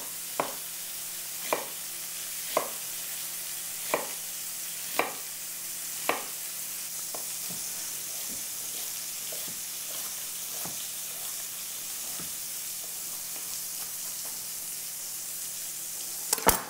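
Chorizo sausage sizzles steadily in a pan as a quiet background hiss, punctuated by a regular series of sharp knife chops on a cutting board.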